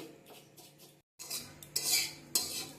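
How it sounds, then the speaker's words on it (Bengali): Vermicelli (semai) is stirred in a pan over a low flame, a metal spoon scraping and clinking against the pan in short close strokes. A brief silent break falls near the middle, and no one talks. "লো ফ্লেমেই ভালো করে মেশাবে তা না হলে সিমইটা পোড়া লেগে যাবে ভালো করে আমি মিশিয়ে নিচ্ছি"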